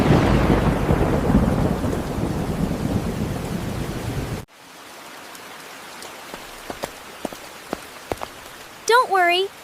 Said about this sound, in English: Oh no, it's raining so hard.